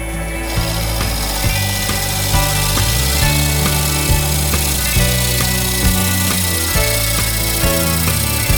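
A scraper cuts against a sycamore bowl spinning on a wood lathe, giving a loud, steady grinding whir with faint rhythmic knocks as the tool meets the wood, with no talking.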